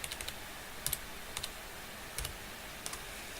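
Computer keyboard typing a formula in Excel, with short bursts of crisp key clicks in an irregular rhythm, close and fairly quiet, separated by brief pauses.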